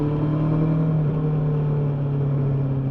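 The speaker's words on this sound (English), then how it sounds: "This is the first time I've ridden a 4-cylinder bike in, God, dread to think, over 15 years" A four-cylinder motorcycle rides along a dry road, its engine giving a smooth, steady hum with a strong low tone that dips slightly in pitch, close and continuous under wind.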